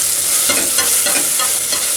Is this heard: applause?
no